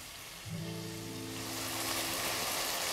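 Spice paste of ground cardamom and cinnamon frying in oil for a wedding-style chicken roast, a steady soft sizzle that swells after a brief quiet start and holds, with faint tonal hum underneath.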